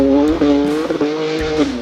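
Rear tyres on a rear-wheel-drive BMW M4 with worn tyres spin up, a close, loud whining squeal with rising and falling pitch and brief engine revving in short surges.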